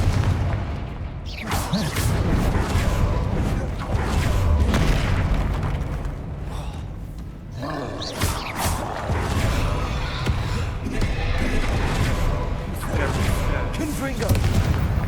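Confringo fire spell blasts in Hogwarts Legacy, heavy booming explosions rolling in repeated bursts over a dense game soundtrack, with a voice speaking over the din.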